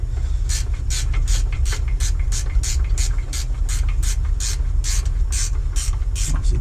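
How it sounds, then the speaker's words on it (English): Rapid, steady clicking of a ratcheting wrench snugging bolts on the rear brakes of a 2007 Chevy, a close, even run of sharp ticks over a low background hum, with no talk. "I like using ratcheting wrenches because they fit in tight places."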